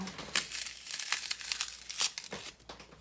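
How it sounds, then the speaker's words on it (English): Crinkling styrofoam being handled during a craft project, with irregular crackling bursts and soft crunches scattered across the stretch, fairly close and moderately loud, with no talk. "sorry if that crinkling bothers you from that styrofoam"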